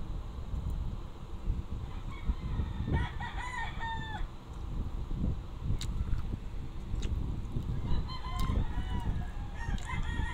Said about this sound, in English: I'm sorry guys for the chicken that you can hear. Our house is near a poultry farm.